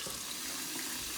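Cold tap water runs into a pan of freshly boiled quail eggs, a close, steady hissing splash that continues throughout without pause.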